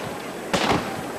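A single sharp gunshot bursts out in a documentary reenactment of shots fired at the king in the palace square, over a steady background hiss.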